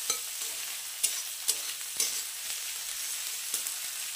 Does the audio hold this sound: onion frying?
yes